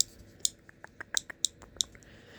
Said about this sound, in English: I'll do some clicking sounds.